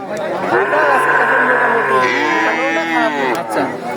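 A heifer at a rural livestock market lets out a long, loud, close moo lasting several seconds, with crowd chatter faintly around it.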